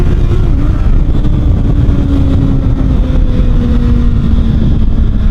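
A Kawasaki ZX-6R motorcycle engine running without an exhaust pipe gives a loud, continuous raspy drone with a slowly shifting pitch, heard close up and without talk.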